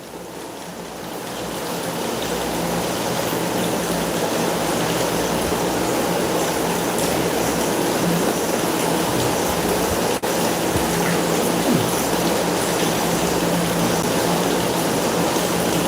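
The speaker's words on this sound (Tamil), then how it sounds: "நல்ல மழை பெரிய மழை பெய்து கொண்டிருக்கிறது" Heavy rain with wind pours down in a constant, dense roar that builds over the first couple of seconds and then holds steady and loud, no voices over it.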